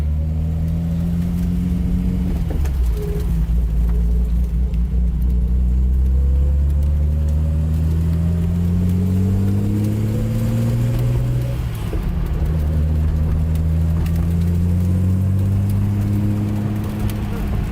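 A Nissan Z car with a new exhaust and resonator revs up and settles repeatedly while driving, a deep steady exhaust drone rising in pitch twice, loud and close, with faint voices underneath.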